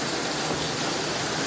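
Rainwater from higher ground rushes steadily through a passage between houses during heavy rain, a dense, continuous broadband roar heard close by with no pauses.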